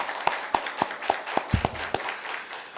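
A church congregation claps in unison, about nine sharp, evenly spaced hand claps in a quick steady rhythm, moderately distant and fairly quiet, with a brief low vocal sound near the end.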